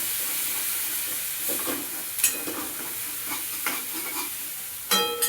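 Drumstick pods with ginger-garlic paste sauté in a hot pan with a continuous close sizzle, broken by irregular spatula scrapes and stirring knocks, including a sharper clatter near the end.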